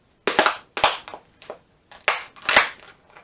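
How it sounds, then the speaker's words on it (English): Several sharp crackling crunches of a plastic cup being crushed under an armpit, coming in two bursts of snapping pops, close and loud, with brief pauses between. "you break the cup under your armpit. It sounds like you're breaking a bone"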